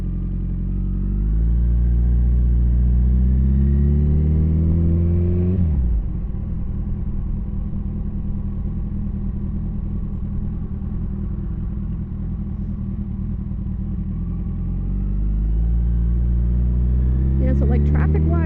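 Street traffic with cars and motorcycles in Las Vegas, a little way from the Strip. A loud, steady engine drone dominates and shifts pitch partway through, then keeps rumbling continuously near the listener.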